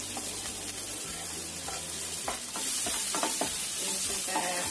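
Garlic and chili sautéing in about two tablespoons of hot oil, a close, continuous sizzle with scraping stirs that pick up in the second half, and no voice.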